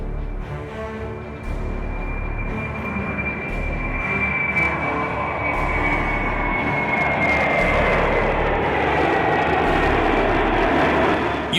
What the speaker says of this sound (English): the plane can take off, showing its true capabilities and potential